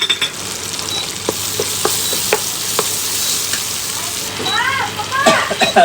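An okra dish frying in a pan as ground coriander-cumin powder is stirred in: a continuous close sizzle broken by short spoon scrapes and taps, with a person briefly speaking toward the end.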